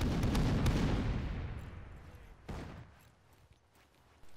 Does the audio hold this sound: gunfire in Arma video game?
yes